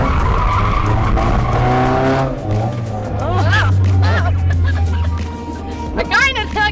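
A car running on rubbing alcohol fuel skids through a figure eight, its tires squealing in long wavering sweeps over a steady engine drone, loud and near, with voices chattering in the background.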